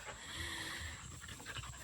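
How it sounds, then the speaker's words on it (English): Dogs pant quickly and breathily while playing at an off-grid home, a close, rapid rhythmic huffing that runs through the whole moment without talk. "the dogs have the zoomies right now and they're like playing, so it may be a little loud in the background"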